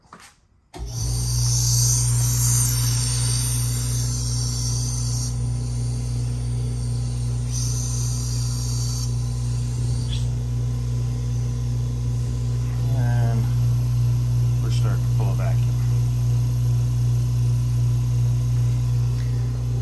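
A vacuum pump drones steadily on a sealed vacuum chamber, a loud continuous low hum with buzzing overtones that starts abruptly and runs unbroken, with faint clicks and small shifts in tone partway through.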